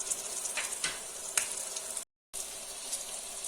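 Fresh coriander leaves hitting hot oil in a pan for chutney, a steady bright crackling sizzle with a few sharper pops, briefly cut out before the frying resumes.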